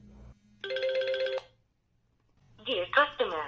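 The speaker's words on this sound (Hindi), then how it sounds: "आप देख सकते हैं मेरे मोबाइल पर फ़ोन आ गया" A mobile phone's melodic ringtone for an incoming call plays clearly for about a second, followed by silence and then a voice speaking.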